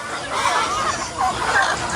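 Chickens clucking on a small farm, a few soft overlapping clucks and murmurs that rise twice over a low, steady background.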